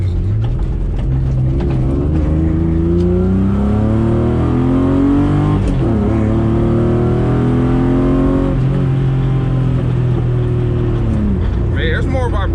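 BMW E36 sedan with a chassis-mounted shifter revving and downshifting, engine note rising and falling in several sweeps, close and loud, with someone talking over it.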